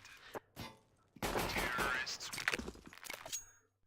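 Gunfire in CS:GO: a few sharp isolated shots, then a loud dense burst of rapid fire with metallic clangs, trailing off into more scattered shots.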